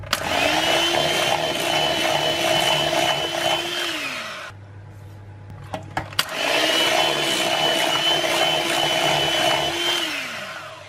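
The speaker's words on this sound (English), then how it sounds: "So just whisk in 1 tablespoon at a time." Whisking sugar into a cheesecake mixture with an electric mixer, a steady near whir running for several seconds, a short pause with a few clicks, then the whir resuming.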